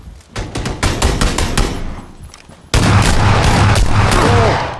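Loud, rapid bursts of gunfire in the video game PUBG, dense rattling automatic shots that swell into a sustained heavy volley, with no speech.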